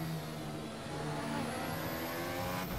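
A Force India Formula 1 car in Assetto Corsa screams past at very high speed, its faint, high-revving engine whine filling a short burst.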